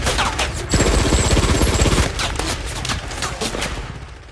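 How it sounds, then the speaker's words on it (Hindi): Machine gun fire in a war movie: a loud, close, rapid burst of automatic shots for about a second and a half, followed by scattered echoing shots fading away. "मशीन गन पीछे हटो"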